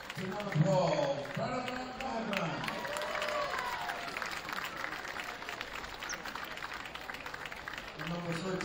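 Applause rises from the crowd in a gym as players are introduced before a junior boys' division 1 basketball final between Harry Ainlay and St. Francis Xavier. The clapping is moderate and steady, blended with general crowd noise and some voices early on.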